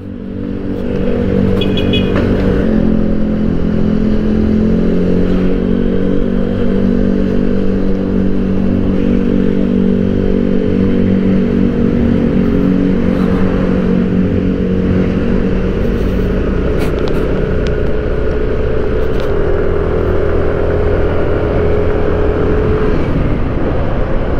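A motorcycle engine drones loudly and steadily while riding, its pitch shifting slightly as the throttle changes, with rumbling road noise underneath and a bumpy ride.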